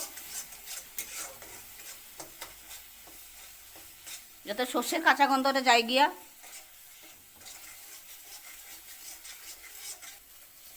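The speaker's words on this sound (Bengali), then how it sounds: "এইভাবে মশলাটারে ভালো করে ভাজা ভাজা করতে লাগবো" Mustard spice paste frying and stirred in a pan for a Bengali pui shak chorchori, with a loud burst of sizzling and scraping midway, softer stirring around it, and someone speaking throughout.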